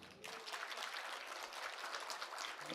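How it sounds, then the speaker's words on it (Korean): Audience applause follows a talk about fighting a virus, with many hands clapping in a steady, moderately loud patter that starts abruptly after a brief quiet moment and carries on evenly. "이 정도면 박수는 쳐줘야 되는 거 아니에요?"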